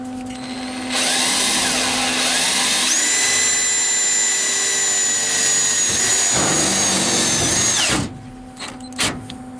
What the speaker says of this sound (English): let's shoot a couple self-tappers in here to make sure it's pulled down good